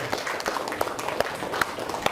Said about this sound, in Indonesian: tepuk tangan dong buat teman kita yang udah bantuin